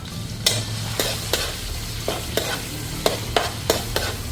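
Plenty of chopped garlic sautéing in a pan over medium heat for crab spaghetti, a steady close sizzle broken by repeated sharp scrapes and stirs of the spatula, with no talking.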